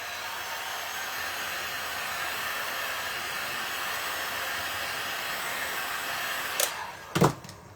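A heat tool blows hot air on a cuff bracelet, a steady loud whooshing roar that runs unbroken for several seconds before two brief clunks at the end.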